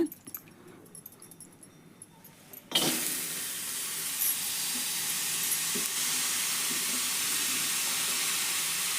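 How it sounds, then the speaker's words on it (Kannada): Vegetables drop into a hot iron kadai and a loud, steady frying sizzle starts abruptly after a quiet opening, then holds as a continuous broad hiss to the end. "ಇವನ್ನ ಇದ್ರಾಗ ಹಾಕಿ ಹುರಿಯನ್ರಿ ಈಗ"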